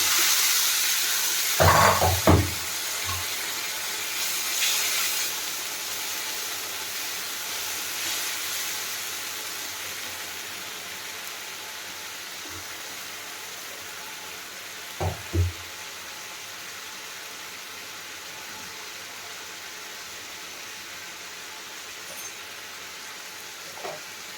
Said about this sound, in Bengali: এবার এতে আমি একটু গরম জল দিয়ে মশলাটাকে কষাবো